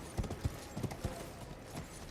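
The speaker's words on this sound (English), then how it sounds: "Hop on the old horse." Horse hooves clip-clopping in the video game Elden Ring, a steady walking rhythm of soft, fairly quiet hoofbeats over a low background.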